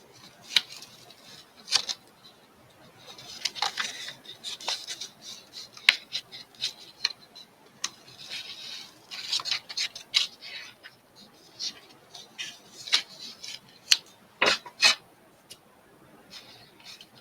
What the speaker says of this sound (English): Scissors.